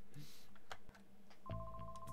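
A cell phone rings with a steady electronic tone that starts partway through, after a stretch of clicks and short taps, with a low hum and some background noise beneath.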